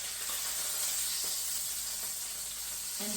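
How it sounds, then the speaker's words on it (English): Steak searing in a hot cast iron pan gives a steady, close, broadband sizzle and hiss that runs unbroken throughout, with no talking. "that pan is still sizzling"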